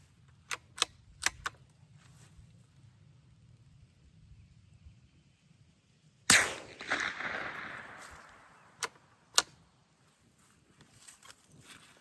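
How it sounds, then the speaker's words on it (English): Suppressed .22 Long Rifle shots go off at an outdoor range: four sharp cracks in a quick burst, then a louder report with a lingering tail, followed by two more spaced shots, all crisp and fairly close. "This is 22 long rifle suppressed."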